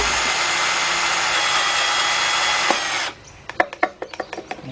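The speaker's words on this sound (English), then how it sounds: "I'm gonna take a drill bit and I'm gonna drill in here." A power drill whines steadily at close range for about three seconds, drilling into a stuck bolt on a 1977 Buick LeSabre 350 engine, then stops, followed by a series of sharp metallic clicks and taps.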